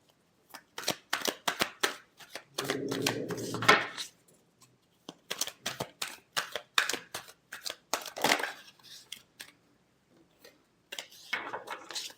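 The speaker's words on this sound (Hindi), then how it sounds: "last shuffle" Tarot cards being shuffled up close in repeated crisp riffling bursts and snaps, some sharp and some longer, separated by short pauses, with no speech.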